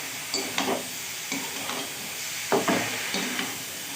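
Cabbage with turmeric, chilli, cumin powder and salt frying in a pan, stirred in several scraping strokes over a continuous close sizzle.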